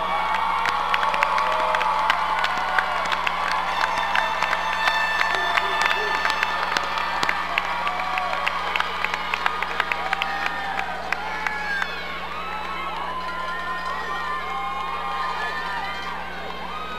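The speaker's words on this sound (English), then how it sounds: "Graduates, join me in giving a standing ovation to thank your families and friends for helping you on this journey." A graduation ceremony crowd rises in a standing ovation, with steady applause and scattered cheers and shouts filling a large hall, and the clapping thinning into a broad crowd murmur toward the end.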